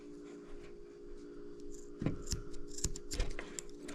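Scissors snip fishing line a few times at close range, sharp clicks and crisp cuts over a faint hum, with brief rustling between.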